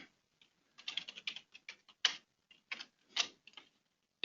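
Keys on a computer keyboard tapped in short irregular bursts while a new password is entered, the clicks quiet and close with brief pauses between groups and no talking.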